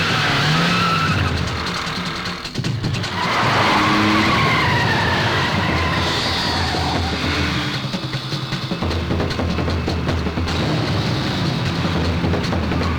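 A car brakes hard and skids, tyres screeching in long rising and falling squeals over a loud engine roar, sustained for many seconds and close up.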